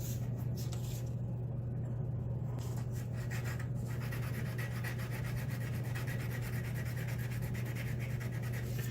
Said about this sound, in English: I'm just going to buff it on this sandpaper, and I'll do that off camera real quick.